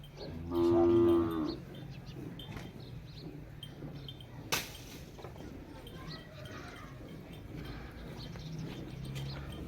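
One deep, drawn-out moo from a water buffalo near the start, followed by steady low background noise and a single sharp click.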